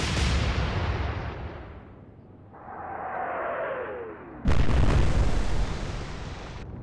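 Battleship main guns fire in the naval game Atlantic Fleet, with a quieter rushing lull before one abrupt, loud boom that rolls on as a heavy, fading roar.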